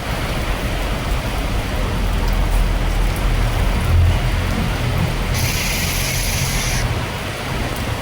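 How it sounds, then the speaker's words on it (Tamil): Heavy, continuous rain pours down in Chennai during a cyclone-driven downpour, a dense, loud hiss with a low rumble of passing traffic underneath. "அதிகாலை முதல் தொடர் மழை பெய்து வருவதாக வானிலை ஆய்வாளர்கள் குறிப்பிட்டிருக்காங்க"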